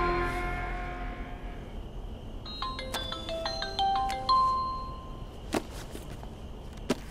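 A phone rings indoors with a melodic electronic ringtone of bright repeated tones, following a burst of music, then gives way to a few clicks and knocks as the call is picked up; no speech.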